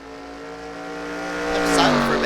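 A race car engine in an online NASCAR-style racing game at Rio holds a steady harmonic drone that swells louder toward the end, with a brief rising whine near the close.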